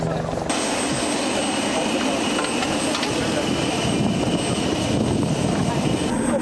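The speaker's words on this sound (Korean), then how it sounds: "타스빙하 헬기로 직접 착륙해서 빙하를 워킹하려고 빙하 탐사하러 가는 겁니다." A helicopter flies toward the Tasman Glacier in New Zealand, its steady rotor and engine roar filling the cabin continuously throughout.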